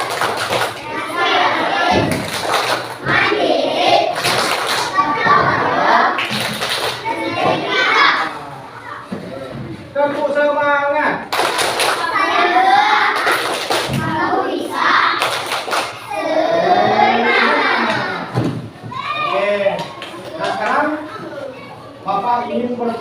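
A classroom of children performs a rhythmic clapping chant, with bursts of sharp claps alternating with loud chanted and shouted voices, close and lively throughout.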